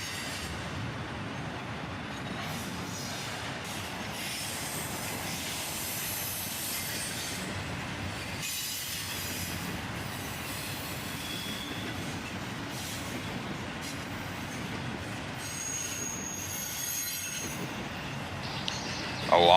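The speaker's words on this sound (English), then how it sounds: "A southbound CSX intermodal train led by a CM44 AC rebuild and a Dash 8." A southbound CSX intermodal freight train, led by a CM44AC rebuild and a Dash 8 locomotive, rolls steadily past at a moderate distance, its wheels rumbling and squealing on the rails without a break.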